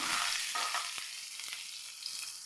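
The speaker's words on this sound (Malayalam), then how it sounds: "ഇനി ഇതാ നമ്മൾ ഒരു പാൻ വെച്ച് കൊടുത്തിട്ടുണ്ട് ഇതിലേക്കൊരു ഇതിലുള്ള നമ്മുടെ ഇഞ്ചി വെളുത്തുള്ളി കറിവേപ്പില നല്ല പോലെ ഒന്ന്" Ginger, garlic and curry leaves sauté in a hot pan, giving a steady, close sizzle with a few soft stirring scrapes and no talking.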